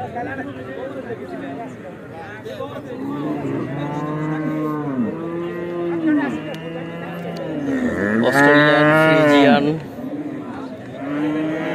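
Large cattle at a Qurbani livestock market in Bangladesh moo repeatedly, several long, loud, close lowing calls rising to a strong bellow near the end, with voices and crowd chatter in the background.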